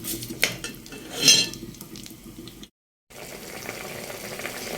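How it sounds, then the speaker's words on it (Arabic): Vegetables being stirred and fried in a pot until browned, with a steady sizzle under clinks and scrapes of a utensil against the pot, then a brief pause before the frying resumes. "قلبي بقى فيها كده لحد ما تحمر."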